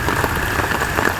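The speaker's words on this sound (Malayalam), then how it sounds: "നല്ല മഴയത്താണ് നമ്മൾ എടുക്കുന്നത്" Heavy rain pours steadily over a garden of potted calathea and kanakambaram plants, a dense, continuous hiss with no talk.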